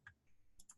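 A few sharp mouse clicks at a computer, brief and close, in a quiet room.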